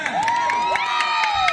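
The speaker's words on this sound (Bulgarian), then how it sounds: "аплодисменти за бъдещото семейство" Crowd at a graduation ball cheering and applauding amid loud music, rhythmic claps and shouts pulsing over a bright melody, lively and close.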